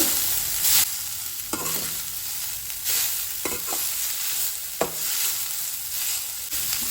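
Chopped cabbage with green chili fries in a pan, a steady sizzle broken by several short scraping bursts as a spoon stirs and turns the vegetables, close and fairly loud.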